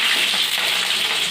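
Green chillies hit hot tempering oil in a short burst of loud, even, hissing sizzle heard close up and alone.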